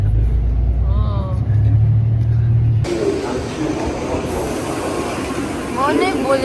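A bullet train in Kyoto rushes past with a sudden loud onset of broadband roar and hiss that stays heavy to the end, following a quieter stretch with people talking and a low rumble.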